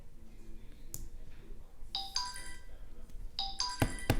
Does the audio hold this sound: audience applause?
no